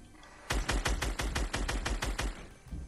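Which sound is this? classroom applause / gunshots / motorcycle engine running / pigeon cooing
gunshots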